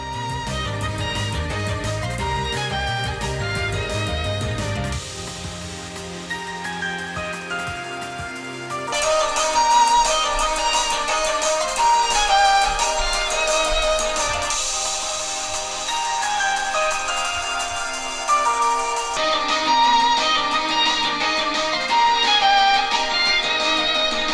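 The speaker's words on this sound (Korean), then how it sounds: "측정용 마이크로 일반적인 머리 위치에서 녹음한 스피커 소리를 들려드리겠습니다" Music playing from a 15-inch laptop's built-in speakers, picked up by a measurement microphone at listening head height, a continuous thin-sounding mix of changing sections with no one talking.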